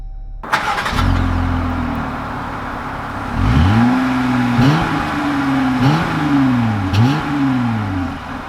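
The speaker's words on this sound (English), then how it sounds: "we are setting off in the Gladiator that is lifted" A lifted 2020 Jeep Gladiator Rubicon pulls away and accelerates, its engine note climbing through several rising gear sweeps, each shift marked by a brief dip before the revs build again, steady and close with no talking.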